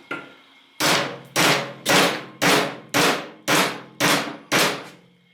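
A hammer strikes a metal piece on a hydraulic jack to bend it during a welding project, delivering eight loud ringing blows at a steady pace of about one every two-thirds of a second, each with a short metallic decay.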